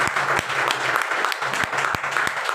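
Applause from an audience at a wellness product seminar, dense clapping over a steady background with a few sharp louder claps, with no voices.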